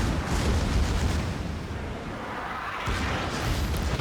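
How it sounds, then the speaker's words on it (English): Secondary guns of the battleship Bismarck in World of Warships fire in a continuous rumbling barrage of heavy booms and blasts, loud and sustained throughout. "Secondaries start firing at the Atlanta"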